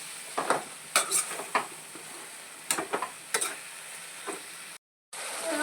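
Chicken curry being stirred in a pan in a home kitchen: soft, irregular scraping strokes with a faint sizzle, fairly quiet, broken by one brief silent gap.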